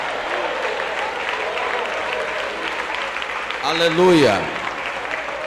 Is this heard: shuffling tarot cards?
no